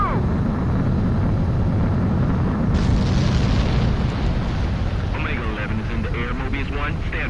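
A fighter jet roars on takeoff in the video game Ace Combat 7, a loud, continuous engine rumble that swells sharply partway through, with a voice talking over it.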